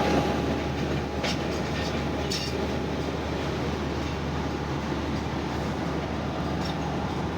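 Thal Express passenger train running on rails in Pakistan, a loud, steady rumble of wheels and carriages close by with faint clicks, continuous throughout with no talking.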